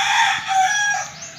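A rooster crows once, loud and close, the sustained call trailing off over about a second against a quiet background.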